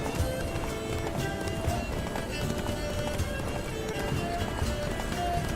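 Horse galloping in a video game, a rapid run of hoofbeats at a steady rhythm, loud and close throughout, with game sound layered underneath.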